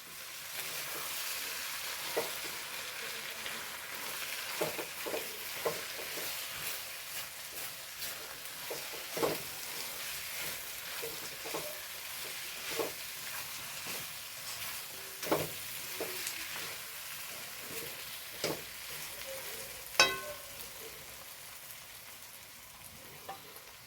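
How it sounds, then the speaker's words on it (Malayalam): Jackfruit biryani masala sizzles steadily in a pot while a spoon stirs it, scraping and clinking at irregular intervals over the continuous frying hiss, close and moderately quiet. "ഇനി നമുക്കിതൊന്ന് തുറന്നു വെക്കാം ഒന്ന് ഇളക്കി കൊടുക്കേ"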